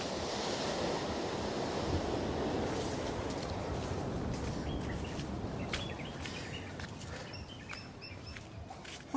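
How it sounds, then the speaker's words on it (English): Sea waves wash onto the shore at Unawatuna, Sri Lanka, a continuous rushing surf with wind buffeting the microphone and faint bird calls chirping in the later seconds. "That's the sea."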